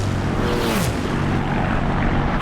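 The engine of a Spitfire fighter plane in a World War II flight game drones loud and continuous, a steady propeller roar with a brief pitch sweep, and no one talks.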